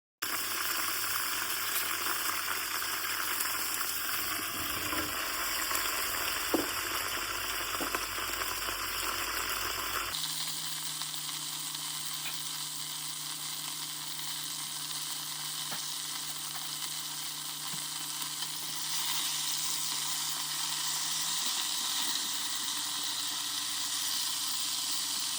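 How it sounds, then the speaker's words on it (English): Onions frying in a pan give a steady, close sizzle throughout, with a shift in tone partway as they are stirred and pushed to the bottom to brown. "So I was just working some of those onions to the bottom of the pan, just to fry them off a little"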